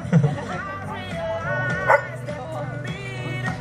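A sable German shepherd barks a short greeting at a rescue-dog demonstration in Balassagyarmat, with a few brief, close barks and whimpers over murmuring background voices.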